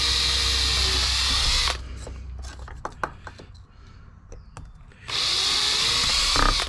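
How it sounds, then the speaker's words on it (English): A power drill bores holes in a fillet knife handle to take brass rods, whining loudly in two long bursts with a quieter gap of clicks and small tool handling noises between them. "I'm going to drill them"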